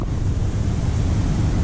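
Water rushes steadily past at Tingue Dam on the Naugatuck River, a loud, close, unbroken roar with heavy low rumble and wind buffeting the microphone, and no voices.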